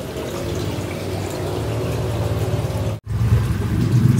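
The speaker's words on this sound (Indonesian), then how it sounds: "belsifon sedang melakukan proses pengurasan, ditandai dengan air yang keluar dengan debit yang besar." Water rushing out through an aquaponics bell siphon during the draining cycle, a loud steady gushing flow with a low rumble, briefly cutting out for an instant before resuming just as strong.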